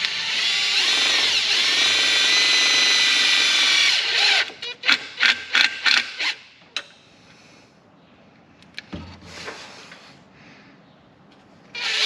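A screw is driven into a car engine's front main seal with a power drill, a sustained whirring run followed by several short sharp trigger bursts, then quiet handling noise.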